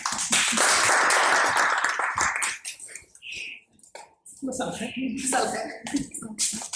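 Audience clapping at a talk, a burst of applause for a couple of seconds that breaks off, followed by scattered claps and voices speaking nearby.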